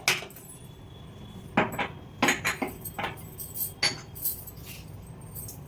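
A spoon clinks against a bowl while stirring ash gourd batter mixed with asafoetida, cumin, salt and turmeric, in a series of sharp, irregular metallic taps with short pauses between them.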